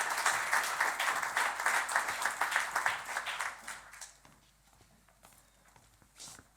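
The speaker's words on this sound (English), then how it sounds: "So please give Ian a round of applause" An audience at a rural connectivity competition briefing applauds, a dense patter of many hands that holds steady for several seconds before thinning out and fading to a few scattered claps.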